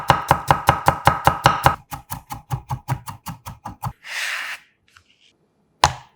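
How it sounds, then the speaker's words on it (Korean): Whole garlic cloves chopped coarsely with a knife on a board: a fast, even run of about twenty close, crisp chops, then a brief swish, a pause and one final knock. "알싸한 통마늘 2개 살짝 굵게 다져서 준비하고"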